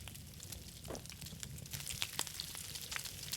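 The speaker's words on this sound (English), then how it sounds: "You can hear the sizzle, can't you?" Boar meat sizzling on a cooking fire in the survival video game Scum, a steady crackling hiss with scattered sharp pops, moderately quiet and continuous throughout.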